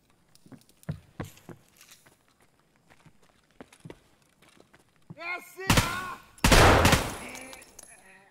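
Gunfire in an Escape from Tarkov match near a pier, scattered soft taps and distant shots building into two loud, close bursts of rapid fire near the end.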